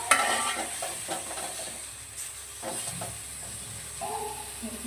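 Tamarind and chillies are sautéed in a pan for a mint-coriander chutney, with a close, moderate sizzle broken by scraping stirs and occasional clinks of a spoon against metal.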